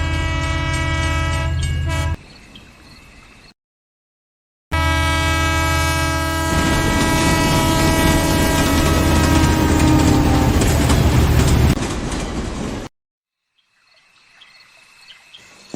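A train arrives on the rails at night, its loud horn sounding in long sustained blasts over a heavy rumbling roll, broken by abrupt silent gaps, with faint insects chirping at the end.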